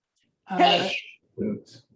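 A single sharp sneeze bursts out, followed by a short softer exhale or sniff.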